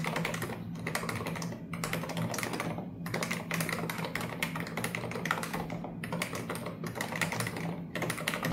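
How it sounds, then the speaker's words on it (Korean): Rapid typing on a Cox CMF104 wired full-size gaming keyboard with light 35g contactless switches, a soft, steady patter of close keystrokes in bursts broken by brief pauses, with no voices. "보글보글 조용하면서도 가벼운 타건감은 무접점 35g 스위치만의 매력이고요"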